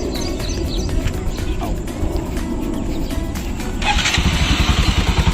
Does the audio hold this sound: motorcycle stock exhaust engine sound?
yes